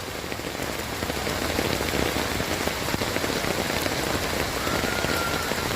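Heavy rain pours down steadily on a flooded road in Surat, a dense, even hiss of drops striking water and pavement with no voices.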